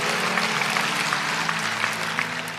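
A church congregation applauds during a sermon, a steady, dense wash of clapping with a low hum of the hall beneath, sustained and even throughout.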